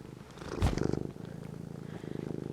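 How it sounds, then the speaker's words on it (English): A cat purrs close by in a steady, rhythmic low rumble, with a brief louder rustle near the start as she is held. "she's totally purring."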